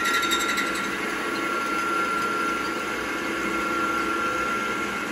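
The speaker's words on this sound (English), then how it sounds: "Turn the mill on." Milling machine running steadily while restoring a vintage 1968 Ford Mustang American Racing Torq-Thrust D wheel, a continuous close whine with a sustained tonal hum and no talking.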